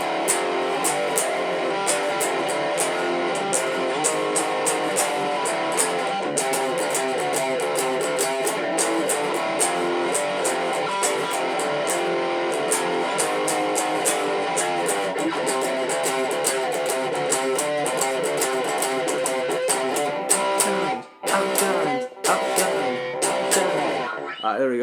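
An electric guitar on the neck pickup plays the chorus of a song, a continuous strummed riff at steady volume with a few brief breaks near the end and no talking.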